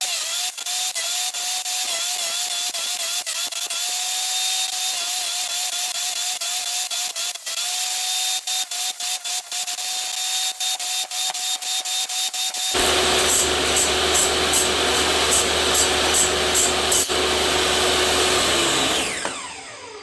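Power tools cut the sides of a wooden piece to shape a tenon for a square mortise joint, a steady high whine with rapid rattling for most of the run, then a louder, denser buzzing saw roar near the end.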